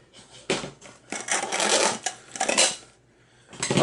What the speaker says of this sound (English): I'm going to need scissors to cut this one out.